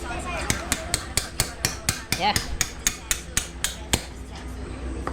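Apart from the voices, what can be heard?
hammer striking a part on a mini chopper motorbike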